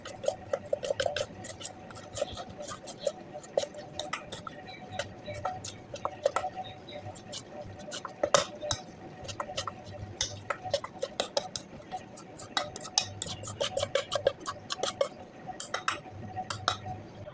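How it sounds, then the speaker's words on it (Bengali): Mixing whole spices such as cinnamon, cloves and cardamom into a paste for a dried-fish dish, with a steady run of rapid ticking and tapping of a utensil against a bowl, close and continuous. "এটাকে আবার ভালোভাবে মিক্স করে পেস্ট বানিয়ে নেবো।"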